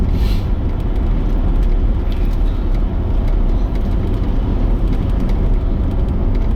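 Range Rover L322 driving along a scenic road, a loud continuous low engine and road rumble heard from inside the cabin, steady throughout with no talk.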